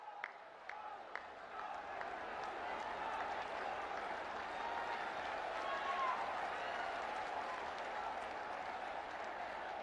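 Audience applause at a public welcoming ceremony for the Prime Minister in Siddharth Nagar, a few scattered claps swelling into steady crowd clapping, heard faintly and at a distance.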